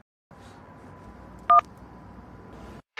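A single short burst of telephone dial tones, a clear two-tone beep around the middle, heard alone over a low steady background hum.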